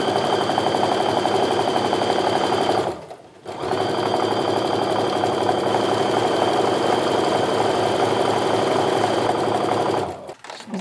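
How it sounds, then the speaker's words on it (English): A sewing machine stitches a quilt seam in a steady, rapid mechanical whir, pausing briefly near the middle and again near the end before resuming, close and alone. "Sew all the way down to the bottom here."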